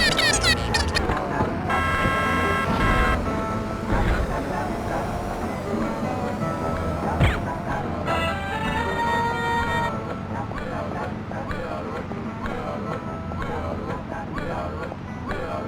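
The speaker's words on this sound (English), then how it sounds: "You've got protesters, people talking, cars, horns, people walking around, engines, tire screeches, and just other random city sounds" Busy city street ambience from the GTA London video game, with engines, passing car horns and general traffic rumble running steadily throughout, punctuated by brief honks, with a crowd of voices talking underneath.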